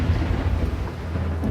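Deep rolling thunder rumbles continuously, loud and close, as a sound effect during a tabletop role-playing game session, with no voices over it.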